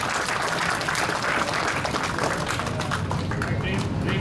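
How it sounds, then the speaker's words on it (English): A crowd claps steadily throughout, dense and continuous applause filling the room. "First of all, clap for him to do this."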